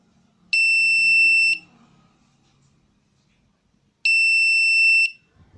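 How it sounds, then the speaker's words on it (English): An Arduino security alarm buzzer triggered by an ultrasonic sensor gives two loud, shrill electronic beeps, each about a second long, separated by a few seconds of near silence with faint background noise. "it passes the signal to the buzzer and the buzzer will sound."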